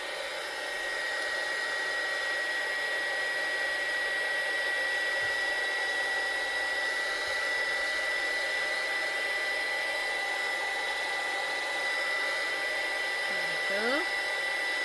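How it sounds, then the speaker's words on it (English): A heat gun blowing steadily to heat-seal stamped ink on fabric, a constant loud whirring hum with a faint high whine, running unbroken throughout. "you can heat seal them with a heat gun"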